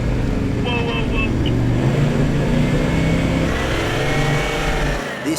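A Toyota Land Cruiser 79 4WD works hard up a muddy climb in New South Wales, its engine revving loud and steady and close for the whole stretch, then dropping off sharply at the end.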